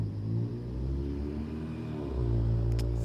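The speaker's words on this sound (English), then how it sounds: "now I'm hearing a loud engine driving up the street right after" A vehicle's engine rumbles as it drives up a street at night, a steady low drone that swells louder toward the end as it passes close by.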